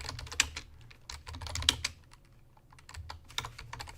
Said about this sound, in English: I'm typing this in quickly here